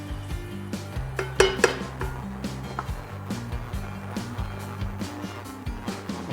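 Metal utensil scraping and clinking against a pan while butter and flour are stirred into a roux, steady irregular knocks and scrapes close by over a low background hum.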